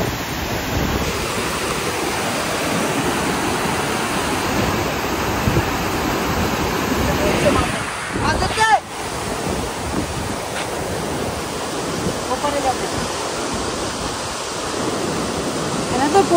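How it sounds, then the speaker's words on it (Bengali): Water rushes continuously in a strong river current at close range, as a broad, steady roar with wind buffeting the microphone. A brief knock interrupts it partway through. "দেখো জলের স্রোত দেখো"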